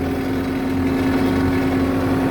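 A 2000 New Holland LX665 skid steer's engine runs steadily at idle up close, a constant low droning hum with no talking and no change in pace.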